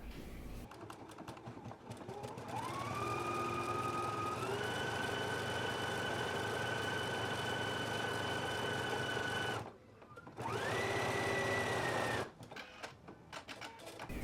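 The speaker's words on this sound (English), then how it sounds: "So now I'm gonna go ahead and stitch, and I'm still using a zigzag stitch" A domestic sewing machine runs a zigzag stitch along a collar seam, a close whirring motor hum rising as speed builds, holding steady for several seconds, stopping briefly, then running again before a final short pause.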